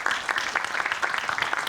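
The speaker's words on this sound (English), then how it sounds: "A huge round of applause for our moderator." Audience at an HR conclave on the future of work applauds the moderator, a dense continuous patter of many hands clapping at steady loudness for a short burst.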